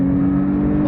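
Porsche 911 Carrera T engine on a race track, a steady loud drone with a low, even tone held for under a second; the driver is talking over it.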